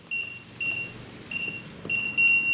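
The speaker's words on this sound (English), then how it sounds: "lock, long beep" Kwikset 914 smart lock keypad giving a long electronic beep, preceded by a few short tones at a steady high pitch, fairly close and clear with no talk.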